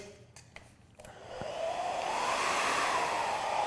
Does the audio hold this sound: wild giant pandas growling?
no